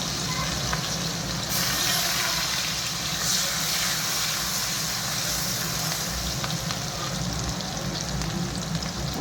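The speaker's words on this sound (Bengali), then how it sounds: "এখন পেঁয়াজ দিয়ে দিচ্ছি। পেঁয়াজ আর কাঁচা লঙ্কা" Onion and green chilli frying in hot oil for an egg curry, a steady dense sizzle that continues evenly and fairly loud throughout, with no talk.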